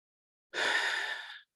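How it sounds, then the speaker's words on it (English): One deep breath, a single close, audible exhale lasting about a second in an otherwise silent setting. "So take a deep breath, expand out."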